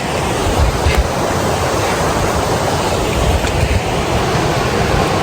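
River water rushes over rocks along a jungle trek near Bukit Daolong in Sentul, Bogor, a steady loud broadband roar with no break and no talk.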